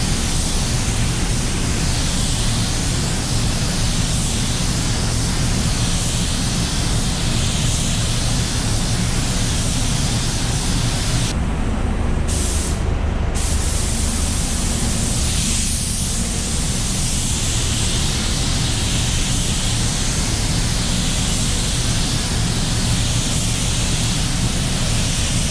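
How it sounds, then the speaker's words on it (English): A DV1 spray gun sprays metallic paint onto a car door, a loud, steady hiss of air and atomized paint that continues almost without a break, with two brief gaps midway. "DV1 is very good for metallic and having very low overspray because the gun operates"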